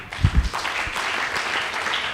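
A church congregation claps briefly during a sermon, a short burst of applause that quickly fades into a softer, scattered wash of noise.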